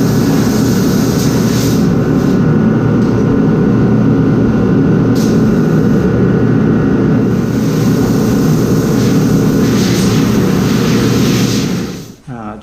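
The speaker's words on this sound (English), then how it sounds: "So I'm going to get some diesel and I'm going to leave this heater on." A diesel heater runs loud and steady in a garage, giving a continuous low roar with a rushing, jet-like hiss that stays unbroken for most of the stretch before cutting off near the end.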